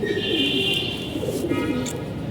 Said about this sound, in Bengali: এটার ভিতরে কবুতর আছে।